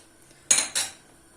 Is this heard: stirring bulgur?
yes